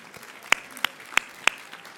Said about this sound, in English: You're going to want to clap for them